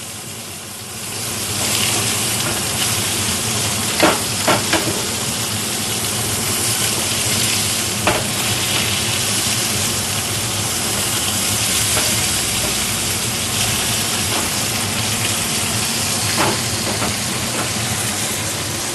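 Hamburg steak with onions sizzles steadily in a frying pan in a small Japanese kitchen right after being flipped, a loud continuous hiss with occasional sharp pops and crackles.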